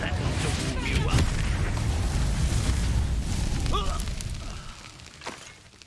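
Confringo fire spell blasts in Hogwarts Legacy, booming bursts over a dense rumbling roar that fades toward the end, with game voices mixed in.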